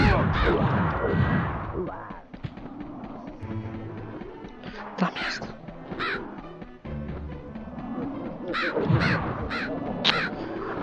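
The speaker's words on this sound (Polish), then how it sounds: "No zostaw mnie, głupia wrono" A crow caws repeatedly in a Halloween-themed video game, loud, close bursts in an uneven rhythm mixed with game sounds.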